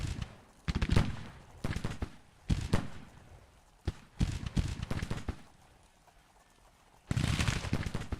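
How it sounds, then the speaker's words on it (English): Civil War cannon fire from an artillery battery in the video game Grand Tactician, heard as a series of loud, irregular booming bursts, some clustered close together, with quieter gaps between volleys and a final sustained rumble. "Now they can fire artillery into the rear of the enemy skirmishers up here."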